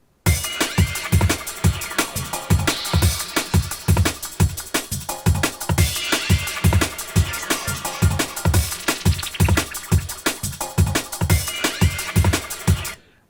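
Drum and bass loop playing from Ableton, with a fast, punchy drum pattern of hard regular hits and a busy high-end groove running steadily and loud for the whole stretch.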